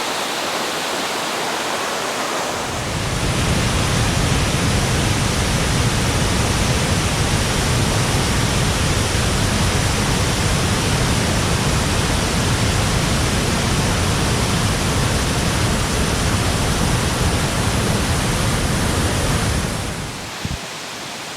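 Somersby Falls in flood, a waterfall roaring as a loud, steady broadband rush that stays constant and close, with a quieter stretch at the start and end.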